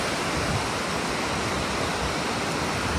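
Rushing water from a mountain river in Rasuwa, Nepal, a dense, constant roar that is loud and close with no pauses.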